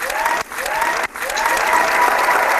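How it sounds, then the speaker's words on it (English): An applause sound effect: loud clapping from a crowd, briefly cut off twice before swelling back into sustained clapping. "Someone do the clap sound."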